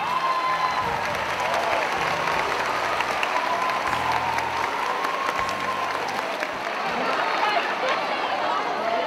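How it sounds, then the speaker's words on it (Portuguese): At a 2005 school graduation ceremony, the audience gives the graduates sustained applause with scattered cheers, a dense, even clapping that fills the hall from start to finish. "Nossos aplausos aos formandos."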